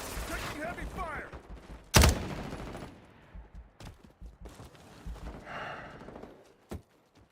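Heavy gunfire in the Modern Warfare 4 beta video game, with a loud sharp burst followed by scattered single shots and short bursts at varying distance, mixed with game voice lines.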